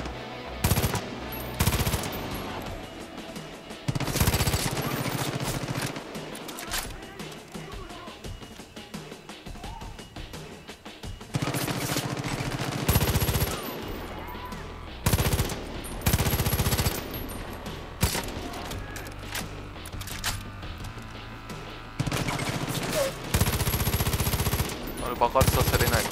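Rapid automatic gunfire from the video game Far Cry 5, with dense bursts of shots, short pauses and explosive impacts repeating loudly throughout.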